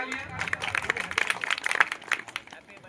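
An audience at a farewell ceremony breaks into applause, a burst of quick, uneven claps from a small crowd that builds and then thins out over a few seconds.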